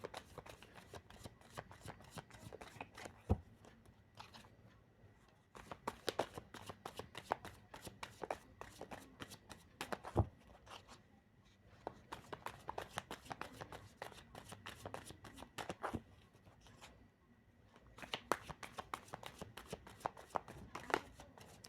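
A deck of tarot cards is shuffled in repeated crisp riffling bursts with short pauses between, close and fairly quiet, with no voice over it.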